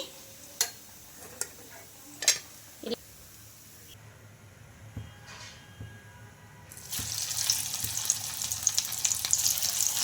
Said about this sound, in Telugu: షాలో ఫ్రై చేసుకుంటున్నాం కాబట్టి తక్కువ ఆయిల్తోనే అయితే ఫ్రై చేసుకుంటున్నాం